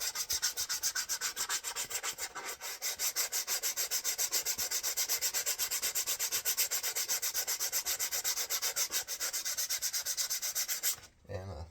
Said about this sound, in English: I'm not going to try to sand everything all the same.